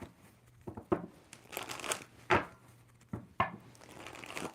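Tarot cards being shuffled by hand, a series of crisp papery riffles and slaps in uneven bursts, close and fairly quiet, with short pauses between shuffles.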